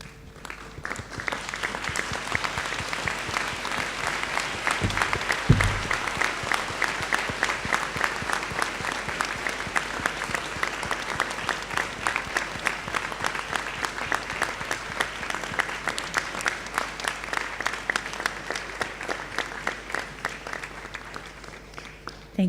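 Sustained applause from a graduation audience at Monash University Malaysia, graduates standing and turning to clap in thanks; dense, steady clapping from a large crowd fills the hall throughout, with a brief low thump midway.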